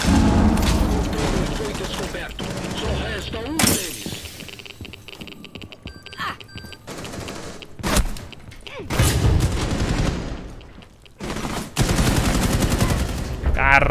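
Repeated bursts of automatic gunfire from a gun in Rainbow Six Siege, loud and close, arriving in several dense volleys separated by short lulls, with speech partly underneath.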